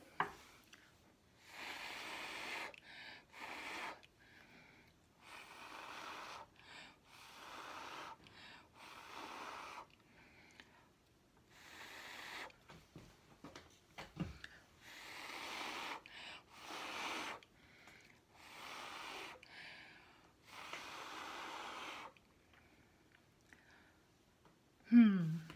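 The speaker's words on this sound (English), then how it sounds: "now I'm just going to use my mouth to kind of blow it out" Repeated bursts of breath blown from the mouth across wet acrylic paint in a Dutch pour with gold, silver and copper colours, each puff a soft airy rush lasting a second or two, close and fairly quiet, with short pauses between.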